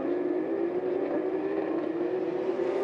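Porsche Carrera Cup race cars at the Paul Ricard circuit make a sustained, droning engine roar, heard at a distance and steady throughout, with no voices over it.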